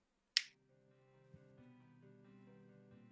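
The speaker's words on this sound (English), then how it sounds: "I heard you snap your fingers" A single crisp finger snap rings out near the start, sharp and close, followed by quiet background hum and faint low sounds during a tabletop role-playing session.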